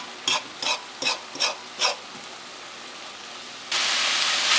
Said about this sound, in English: we stir that all in and let it get mixed and fried together